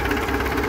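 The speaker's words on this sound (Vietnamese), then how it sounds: "nổ rất là chuẩn luôn" Close, steady knocking idle of a Yanmar 4CH-ST marine diesel engine rated at 160 horsepower, a brief loud burst of even, rhythmic mechanical chatter with no speech over it.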